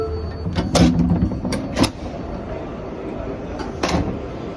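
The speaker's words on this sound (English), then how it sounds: "Stand clear of the closing doors," New York subway train doors slide shut at 111th Street with a few sharp mechanical clunks and hisses amid a steady rumble of train noise.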